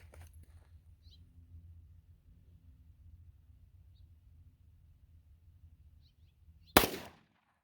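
A single sharp, loud gunshot from a Glock 33 pistol chambered in .357 SIG cracks near the end after a long quiet stretch, with a short decaying echo.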